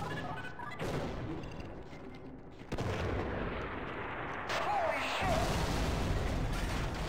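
A big gun firing in the game Sven Co-op, heavy booming shots at moderate level over a noisy, echoing background.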